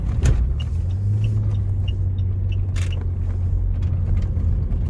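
A 2008 Saab 9-3 Aero drives past at speed with a loud, steady engine roar and deep low rumble, the engine held at high revs throughout with no talk over it.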